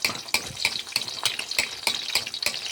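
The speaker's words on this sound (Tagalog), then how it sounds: "Ikot-ikotin. Ikot lang ikot." Food being stirred around a hot cooking pan for a morning dish, with steady scraping strokes about three per second over a constant sizzle, close and fairly loud, with no talking.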